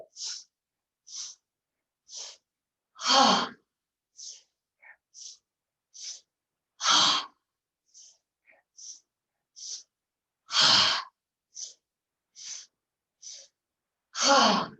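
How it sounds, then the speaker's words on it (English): Rhythmic breathing during an exercise routine, sharp nasal sniffs in repeated short bursts, with a longer, fuller exhale following every few inhales, close up and loud over silence. "Inhale, inhale, inhale, exhale."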